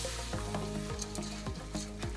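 A spoon scrapes and stirs through beans in a pot of sweet potato and lentil soup, with rhythmic knocks over a steady sizzle.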